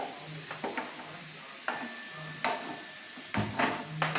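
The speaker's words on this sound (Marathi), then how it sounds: "आता आपण हे तुपामध्ये भाजून घ्यायचं आहे कढई ठेवली मी इकडं गॅसवर" Grated bottle gourd roasting in ghee in a wok on a gas stove gives a soft, steady sizzle broken by sharp, intermittent scrapes and clacks of stirring, close and fairly quiet, with no talking.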